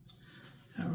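Scissors cutting paper for a handmade zine give a short, close snip near the end of a quiet moment, a single crisp slicing sound.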